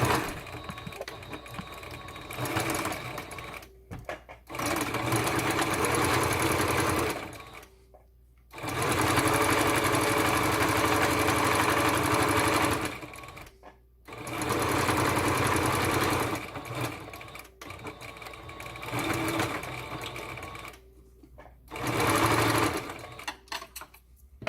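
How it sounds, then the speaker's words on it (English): Domestic sewing machine stitching cotton fabric for a pleated face mask, running in loud steady bursts of several seconds separated by short pauses, close to the microphone. "now I'm going to the sewing machine"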